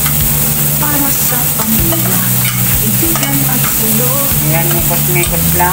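Spam browning in a dry pan with no oil, a steady close sizzle and fry with stirring scrapes throughout, while a voice speaks briefly over it.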